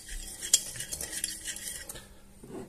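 A utensil stirs sweet paprika and other spices in a bowl for a pork rib roast, giving a soft scraping swirl with several light clinks against the bowl, one sharper tap early on, close and fairly quiet.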